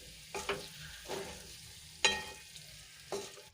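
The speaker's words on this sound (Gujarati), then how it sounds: "હવે કોથમીરને સરસ રીતે મિક્સ કરી લઈશું" A spoon stirs fresh coriander into dry sweet potato curry in a pan, giving a few separate scraping strokes with a faint sizzle between them and no talking.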